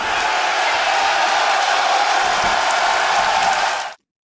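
A wrestling arena crowd roars in a loud, dense, continuous wall of cheering and applause for a sharpshooter hold, which cuts off abruptly near the end.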